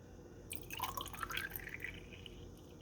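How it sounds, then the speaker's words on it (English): Spring water pouring from a gallon jug into a container, a faint, steady trickle with light splashing that runs for a couple of seconds at close range. "I'm going to have to pick up my gallon jug here and pour some more in there."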